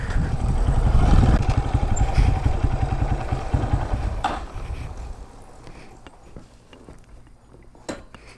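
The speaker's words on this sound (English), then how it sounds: "And there it is, the last moment of trail riding on this bike." A Honda CRF230F dirt bike on a trail, its engine rumbling loud and close at first and then fading steadily as the machine pulls away, leaving faint clatter behind.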